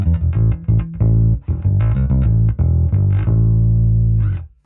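Electric bass played through a Luminal Booster Ultra pedal with its treble raised, a run of punchy, full-bodied notes with a bright, slightly gritty edge, loud and close, ending on a decaying note.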